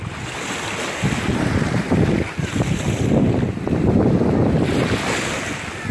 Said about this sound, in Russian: Сзади море, но заходить в него что-то не хочется, потому что ветрено.